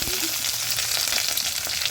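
Seasoning splutters and crackles in hot oil in a pan, a dense, steady sizzle with scattered sharp pops, close and continuous.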